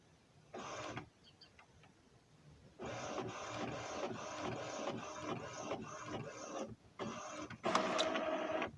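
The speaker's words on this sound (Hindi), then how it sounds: "ये कुछ पेपर हैं, हमें इसका प्रिंट देना था तो हमने प्रिंट भी दिया।" An Epson L3250 inkjet printer runs through pages, its feed mechanism whirring and clicking in bursts with short pauses between, close and moderately loud, with no talking.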